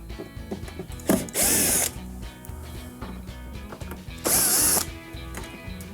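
A power screwdriver backs out two Phillips screws from a metal side cover panel, heard as two separate whirring bursts about three seconds apart over a steady musical background.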